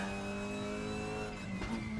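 Petrol front-wheel-drive race car engine in the RaceRoom racing sim, a steady loud engine drone with a strong harmonic note held through the whole stretch and a brief shift of pitch near the end, alone with no talk.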